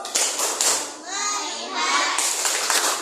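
Classroom children chanting and clapping a rhythmic focus clap routine during a teaching practice lesson, sharp group claps in bursts between lively young voices, close and fairly loud.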